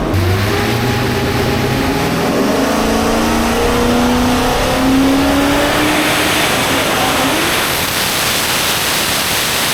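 A boosted Honda S2000 engine, a car of about 2200 horsepower, runs a full pull. Its loud roar climbs in pitch as it revs up and then fades into a broad rushing wash of noise.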